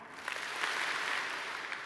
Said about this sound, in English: If that's you, I want you to clap 2 times.